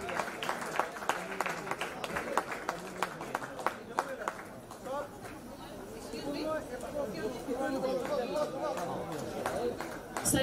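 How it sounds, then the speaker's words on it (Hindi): Scattered clapping from an audience at a carrom tournament ceremony fills the first half, then fades as people chat and a voice talks over the room. "Please put your hands together"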